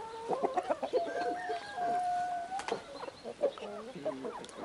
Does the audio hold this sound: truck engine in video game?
no